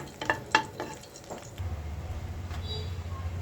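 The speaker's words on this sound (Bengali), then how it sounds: "কড়াইতে তেল দিয়ে দিয়েছি আর তেলের মধ্যে দুইটা শুকনো মরিচ ছিঁড়ে দিয়ে দিয়েছি" Dried red chillies, torn in half, hit hot oil in a wok: a few sharp scraping clicks at first, then a low, steady sizzle settles in.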